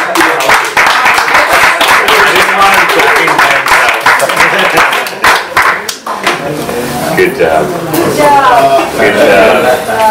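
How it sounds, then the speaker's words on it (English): Audience applause at a talk or seminar, dense clapping from many hands filling the room, with voices speaking through it as it thins out toward the end. "let's give a round of applause to the"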